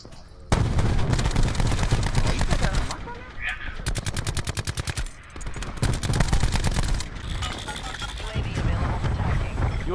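Rapid automatic gunfire from a Rampart 17 rifle in the Black Ops 4 shooter game, loud bursts of dense, crackling shots with brief gaps between volleys.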